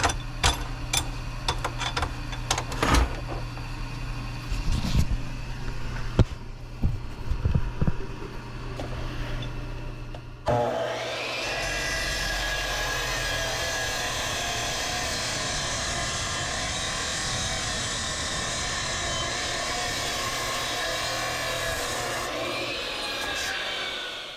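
Cutoff saw slicing through hydraulic rubber hose in a workshop: after some clunks and handling knocks, a loud steady whining cut holds for over ten seconds, then winds down.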